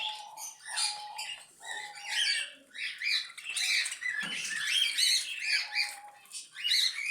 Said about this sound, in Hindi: कॉकटेल अपना शोर मचा रहे हैं